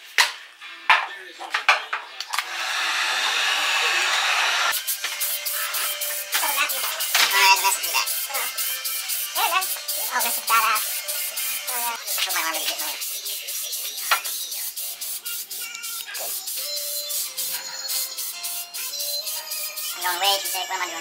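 Blue Rust-Oleum spray paint hisses from an aerosol can in a steady burst, laying a thick base coat on a wiper motor, followed by scattered clinks and light handling noises nearby.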